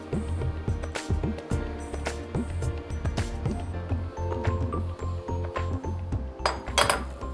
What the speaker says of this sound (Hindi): घी हमारा गर्म हो चुका है, इसमें हम डालेंगे रागी का ये आटा और इसको हम मिला लेंगे